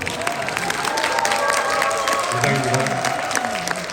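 Audience applause and crowd noise at a book concert, a steady wash of clapping running throughout while a voice speaks briefly over it.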